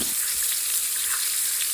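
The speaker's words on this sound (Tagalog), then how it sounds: "tunog ng rumaragasang tubig" Brief burst of hissing, rushing water, bright and steady, heard up close with no voices.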